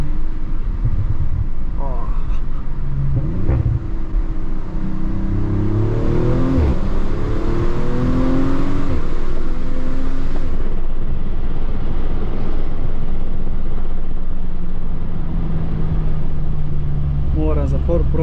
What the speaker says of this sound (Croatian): Mislim da zbog GTR-a smo i zavolili malo više ovaj zvuk motora